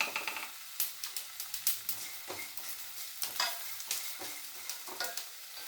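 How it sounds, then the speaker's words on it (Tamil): Tomatoes sautéing in a pan with crushed garlic and small onions, a steady close sizzle broken by repeated scraping stirs of a spatula, with no voices. "இப்போ இது தக்காளி நல்லா வதங்கிடுச்சு"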